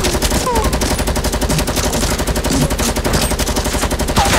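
Rapid video game gunfire rattles in a dense, loud, continuous burst of closely spaced shots, with faint background noise between them.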